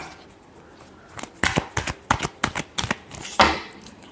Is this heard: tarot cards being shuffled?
yes